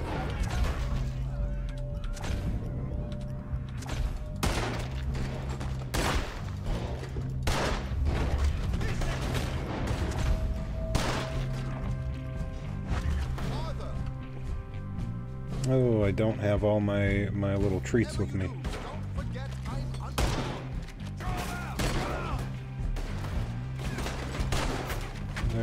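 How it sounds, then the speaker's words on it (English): Gunshots ring out in Red Dead Redemption 2, sharp cracks scattered irregularly across a long stretch, mixed with game sounds and a voice talking between them. "That gunshot killed that man."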